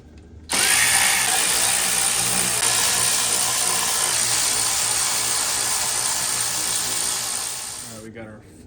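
A power tool with a T30 Torx bit runs steadily for several seconds, close and loud, while removing bolts from the lower shutter blind of a BMW 330i xDrive, then winds down and stops.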